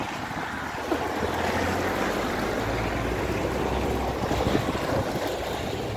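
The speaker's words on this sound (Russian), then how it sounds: "Для Норильска такой ветер — это довольно-таки серьезный ветер." Strong, cold winter wind in Norilsk at minus 26 degrees roars steadily, a dense broadband rush buffeting the microphone with gusts, no voices.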